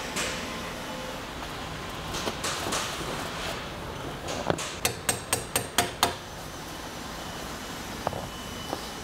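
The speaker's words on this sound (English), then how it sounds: "I might have to put some pressure on that as I'm tapping it in to get that pin to line up" A hammer taps a pin into a lower actuator during a repair, a rapid run of six or seven sharp metallic strikes over steady background noise, with a few scattered taps before and after.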